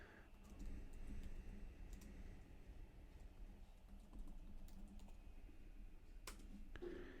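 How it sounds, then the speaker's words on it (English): Slow typing on a computer keyboard, with soft scattered key clicks in an uneven rhythm over a steady low room hum, heard close and without any talking. "You can see how slow my typing is."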